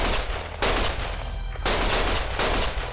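Heavy gunfire in the video game Lost Judgment: three loud, booming volleys of shots, each lasting about half a second, with a dense rumbling wash in between and no talking.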